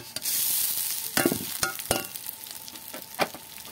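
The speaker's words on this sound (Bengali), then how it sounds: "এইভাবে নেড়ে চেড়ে আমি চালগুলো ভেজে নেব।" Pulao rice for basanti pulao fries in ghee alongside fried cashews and raisins, with a soft steady sizzle broken by several scraping stirs of the spoon, close and alone without talk.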